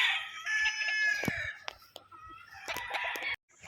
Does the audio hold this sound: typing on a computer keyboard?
no